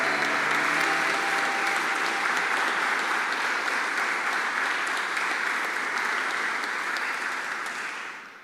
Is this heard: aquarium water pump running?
no